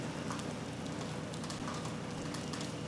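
Hard rain falls steadily at a Mississippi logging site, a constant dense hiss of drops with no distinct events, ending in a sudden loud bump.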